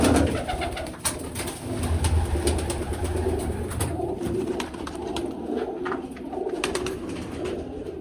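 Pigeons coo steadily at a loft where the birds are kept, with low, throaty calls overlapping through the whole stretch amid light rustling and fluttering nearby.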